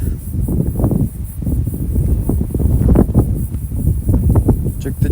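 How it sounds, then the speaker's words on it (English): Strong wind buffets the microphone on a coastal road beside dunes near Woody Cape, with an idling BMW F650 motorcycle nearby, a steady low roar of gusts rising and falling throughout. "Very windy out here."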